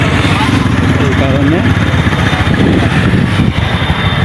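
Motorcycle engine droning steadily and loudly up close while riding along a busy main road during Eid holiday traffic in Bangladesh, with someone talking briefly over the continuous engine noise.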